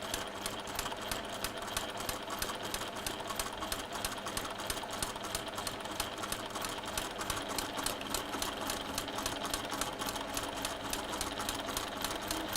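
A sewing machine runs steadily along a seam line, its needle pulsing in a fast, even rhythm for over twelve seconds, close and alone with no voices.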